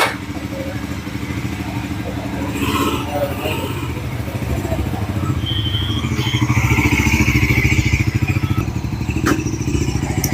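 A Bajaj Pulsar NS400z motorcycle riding past on a road, its engine rising in a loud drone as it nears, with clattering traffic noise around it.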